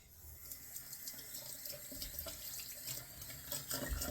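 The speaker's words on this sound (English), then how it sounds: "Wet my rag here right quick." Tap water runs steadily into a sink to wet a rag after a wet shave, a continuous mid-level splashing stream with no talking.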